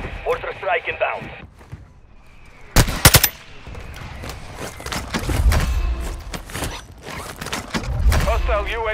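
Airstrike explosions and gunfire erupt in the Warzone battle royale on the Vondel map: a sharp close volley of rapid shots, then deep rolling blasts rumbling on. Brief radio-style voice chatter is heard at the start and end.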